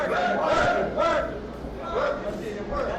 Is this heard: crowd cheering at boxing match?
yes